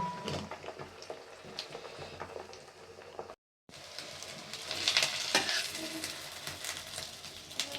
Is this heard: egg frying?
yes